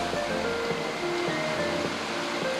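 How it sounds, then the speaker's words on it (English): Ocean waves surge against the rocks at the foot of a high sea cliff on Newfoundland's East Coast Trail near Pouch Cove, a steady, broad roar of surf heard from above with no voices. "Can you hear the boom of the waves hitting the rocks over there?"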